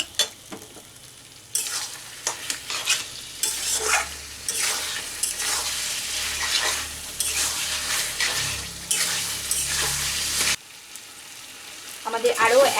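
Potato and pointed gourd stirred and tossed in a pan over the heat, with a steady sizzle and repeated scraping strokes, then a sudden drop to quiet and a few sharper clinks near the end.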